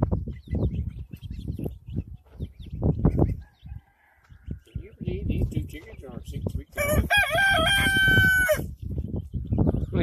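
Clucking and scattered noises from chickens on a farm are followed by one loud, close rooster crow, with a few voices talking nearby earlier.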